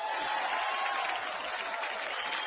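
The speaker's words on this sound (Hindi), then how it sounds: "एक बार अनिल कपूर साहब के लिए जोरदार तालियां." A studio audience at a Kapil Sharma comedy show applauds. The clapping is even and continuous, fairly soft and somewhat distant, with no one speaking over it.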